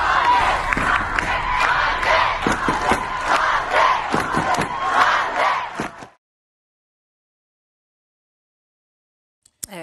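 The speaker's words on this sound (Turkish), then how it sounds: "Seyirciler dakikalarca alkışlayarak karşılık verdi." A concert crowd of fans in Germany roars and cheers with scattered clapping and shouts for about six seconds, then the sound cuts to silence with a brief click near the end.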